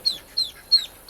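Young domestic ducks give four short, bright calls evenly spaced about a third of a second apart, close and clear against a quiet background.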